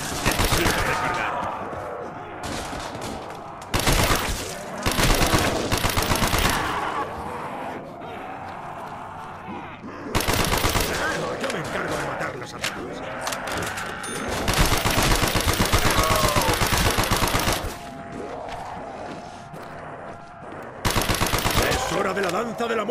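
Call of Duty Black Ops zombies on the Kino der Toten map: loud bursts of rapid automatic gunfire come in repeated volleys separated by short lulls, with a voice occasionally speaking in between.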